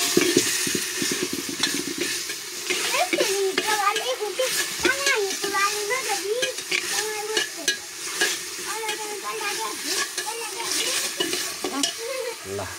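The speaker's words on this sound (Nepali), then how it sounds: "ल मासु पकाउँदै गरेको साथीहरू हेर्नु हाल्दा" Organic meat frying in a hot pan while being stirred, a steady loud sizzle with repeated scraping strokes throughout, and voices, including children, talking in the background.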